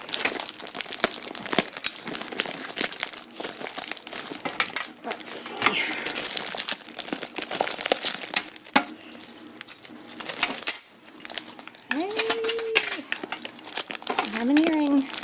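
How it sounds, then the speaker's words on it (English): A heavily taped bag holding a jewelry lot being torn open: close, ongoing crinkling and crumpling of plastic and tape, with small clinks, while someone talks. "So let's open this bag"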